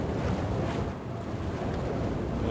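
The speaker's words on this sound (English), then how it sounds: "And the ocean waves." Ocean waves in the game EDuke32 form a loud, steady wash of surf and windy roar with no breaks, and nobody talks over it.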